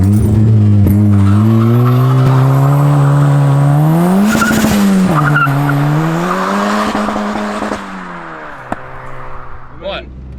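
A shed-built turbocharged Ford Fiesta ST170 with over 300 horsepower drives with a loud, close engine drone that rises and falls through revs, some tyre and road noise, then fades toward the end while people talk over it.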